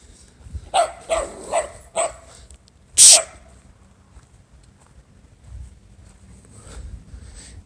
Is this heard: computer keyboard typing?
no